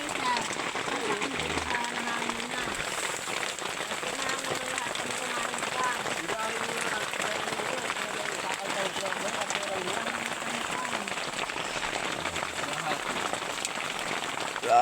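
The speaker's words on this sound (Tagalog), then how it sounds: "Grabing ulan na ba?" Heavy rain falls on a farm, a steady close patter and drumming of drops across the whole stretch. A voice talks intermittently underneath.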